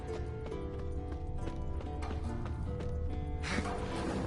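Steady clip-clop of horse hooves plays continuously at a moderate, even pace over a busy background with music-like tones.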